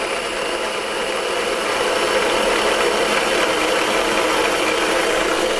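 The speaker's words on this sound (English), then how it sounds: "We're going to start blending that up" A kitchen blender whirs steadily as it purees charmoula sauce with olive oil, a loud, continuous motor drone with no breaks or talk.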